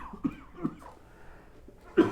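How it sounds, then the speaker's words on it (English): A couple of short, muffled coughs from someone close by, one early and one louder at the end, with quiet room noise between. "Hopefully this muffles the coughs a little bit."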